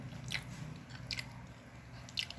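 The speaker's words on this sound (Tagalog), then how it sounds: "mumukbangin ko na. Tikman ko." An egg mayo sandwich is bitten and chewed close up, with soft crunchy bites and moist chewing in a steady rhythm and no talking.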